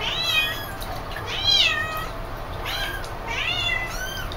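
Several kittens meow repeatedly in high, rising cries during a bath in a tub, calls overlapping in bursts close by with splashing-free background hum.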